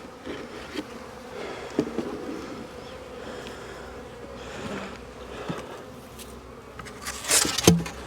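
Agitated honey bees buzzing around an open hive during late-winter feeding, a steady close drone with a few louder passes near the end.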